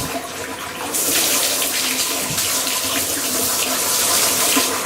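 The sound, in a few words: warm water running from tap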